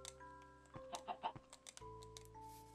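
Chickens in the video game Minecraft cluck in a few short, quiet bursts over steady background game music, with no talking.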